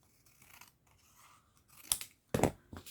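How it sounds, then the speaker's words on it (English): Scissors trimming paper for a handmade junk journal: a few faint snips at first, then two sharp, close crisp cuts near the end over quiet background, with no speech. "I'll probably trim this a little bit."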